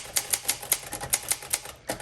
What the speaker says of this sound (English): It is typing extremely well.